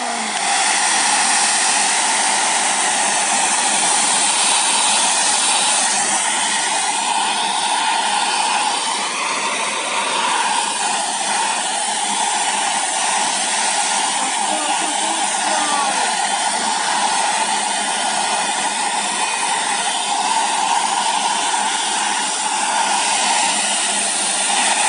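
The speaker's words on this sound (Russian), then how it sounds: "Нет, я буду греть феном, потому что детям это небезопасно." A hair dryer blows steadily and loudly from start to finish, a constant broadband whoosh with no pauses, heating plastic film on a remote control cover.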